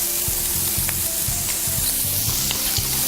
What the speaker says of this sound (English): It's cooking in the pan there.